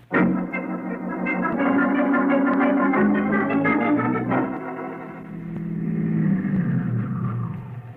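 A car drives and pulls up as a radio drama sound effect: a loud engine drone with a tonal hum holds for several seconds, then drops and eases down as the vehicle slows to a stop.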